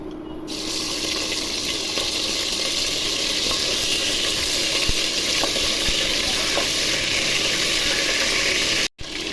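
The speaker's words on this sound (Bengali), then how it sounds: "তেল গরম হয়ে গেছে এখন ওই তেলের মধ্যে বেরেস্তা তেলের মধ্যে মাংসের চৌবড়ি ভেজে নিব" Pieces of beef sizzling in hot oil left from frying crisp onions, a loud continuous hiss with faint pops throughout, cut off by a brief dropout just before the end.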